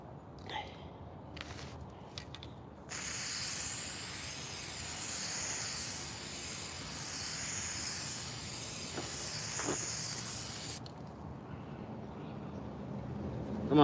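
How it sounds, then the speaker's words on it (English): Spray glue hissing from a can onto fabric for a leather and foam lined laptop case, one steady, close spray lasting about eight seconds, with brief handling noises before and after. "I should probably spray some glue on this fabric too"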